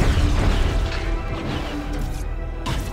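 Bombs explode in the underwater video game Song of the Deep, giving a loud booming crash at the start that rumbles and fades, then a second sharp burst near the end.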